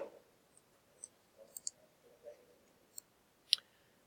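A computer mouse clicking while text is edited: a handful of faint, sharp, isolated clicks spaced irregularly over a few seconds in a quiet room.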